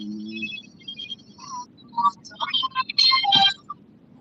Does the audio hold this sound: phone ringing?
yes